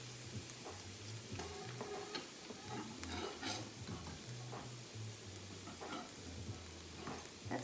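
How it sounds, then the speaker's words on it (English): Onion cooks in a pan until softened and lightly browned for a vegan taco salad, a soft sizzle under repeated light scrapes and taps from stirring. "add the onion and cook until softened and lightly browned"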